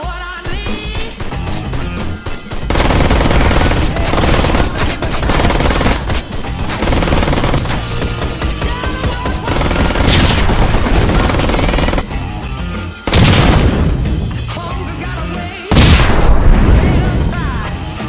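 Turret gunfire in the video game Ride to Hell, long loud bursts of machine-gun fire with heavy booming impacts, broken by a few brief pauses and a sudden crash near the end.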